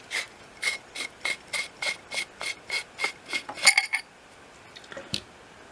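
A solar and USB rechargeable flashlight being unscrewed, a regular series of about eleven short grinding rasps from the threads, then a quick metallic clatter and a brief scrape afterward, close and without talk.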